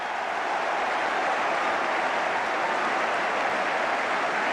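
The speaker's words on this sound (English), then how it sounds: "The goal getting the applause that it deserves." A football stadium crowd applauds a goal at a 1980 match, a dense, even wash of clapping that holds steady and loud throughout, somewhat distant and without any distinct voices.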